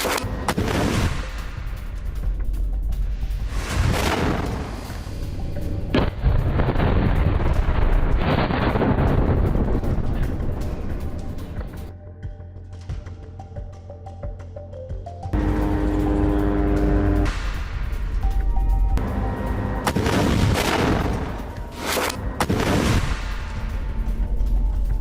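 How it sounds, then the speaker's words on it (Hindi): An RPG strike and gunfire hit an Israeli tank during a Hamas ambush in Gaza, heard as a sustained series of heavy booms and deep rumbling blasts with a brief lull midway, loud and with no voices. "हमास के लड़ाकों ने आरपीजी से टैंक को उड़ा दिया।"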